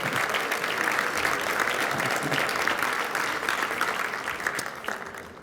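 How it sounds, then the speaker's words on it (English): Steady, dense applause from an audience at the Latino Leaders Network tribute to mayors, sustained at even strength throughout with no speech over it, tapering slightly at the end. "Please give a warm round of applause to Salvador Ontiveros."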